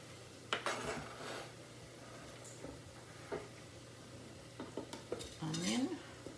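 Adobo peppers being mixed into a ground beef mixture in a pan: soft scraping stirs and a few sharp utensil clinks against the pan, with a faint sizzle underneath, close and fairly quiet.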